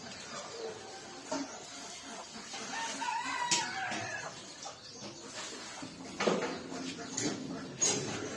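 A village rooster crows on a winter morning, one drawn-out cock-a-doodle-doo at moderate distance among softer clucks from fowl, in a quiet rural setting with faint voices nearby.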